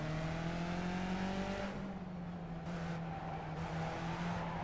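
Skip Barber race cars in the iRacing video game drone steadily with a buzzing engine note that holds a continuous pitch and shifts slightly, loud and close throughout with no talking.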